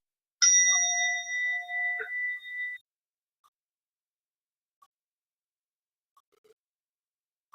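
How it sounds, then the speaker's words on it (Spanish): A single struck meditation bell rings once in quiet surroundings, a bright clear strike with several sustained ringing tones that decay over about two seconds, followed by near silence with a few faint soft ticks. "Si oímos este sonido, en nuestra mente surgirá un pensamiento que dirá campana."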